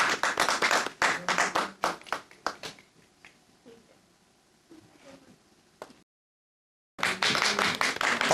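Loud audience clapping at a Pakistani bridal competition show, a burst of dense applause for about three seconds that fades to quiet, breaks off into silence, then returns just as loud.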